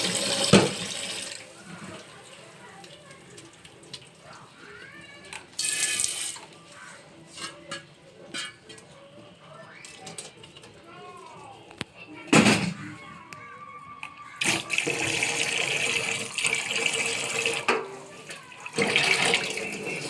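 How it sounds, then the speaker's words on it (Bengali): Cold tap water runs over boiled chow mein noodles in a kitchen sink, splashing in bursts that start and stop, with someone talking between and over the flow. "ঠান্ডা জলে একটু ধুয়ে নেব।"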